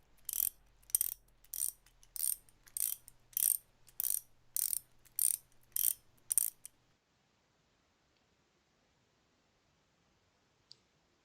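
A game sound as a power line is connected to a fuel generator in Surviving Mars: about nine evenly spaced metallic ratcheting clicks, crisp and close, then near silence with one faint tick.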